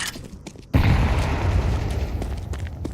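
A grenade goes off in a first-person shooter game: after a quiet, faint start, a loud booming blast hits and then rolls on as a dense, sustained rumble to the end.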